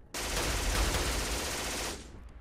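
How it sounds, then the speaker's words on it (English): An MG-42 rattles off one long, loud burst in a World War 2 strategy game, dense and unbroken for nearly two seconds before cutting off into a brief fading tail. "That is definitely an MG-42 there."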